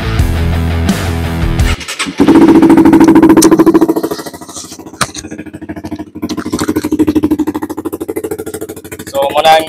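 Motorcycle fitted with an Akrapovic big bore exhaust starts up after a brief rattle, then holds a loud, close idle with a deep throb that dips and swells, ending in a short blip of throttle.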